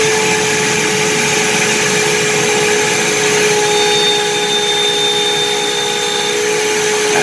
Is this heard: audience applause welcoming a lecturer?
no